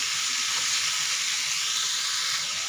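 Ridge gourd sizzles steadily in hot oil for a dodka masala fry, a dense, even crackle that stays loud and unbroken throughout, with no voices.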